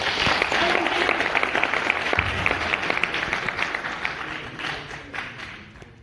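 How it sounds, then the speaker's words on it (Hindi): At a motivational entrepreneurship session, an audience bursts into loud, dense applause with some crisp individual claps, which gradually thins and softens toward the end. "इनके लिए एक बार जोरदार तालियां यार।"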